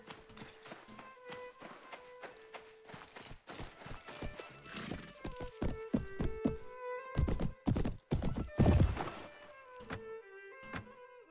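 Rhythmic hoofbeats of a galloping horse with a whinnying neigh, mixed with thuds and game sound effects in Mount and Blade: Warband Viking Conquest, busy and fairly loud.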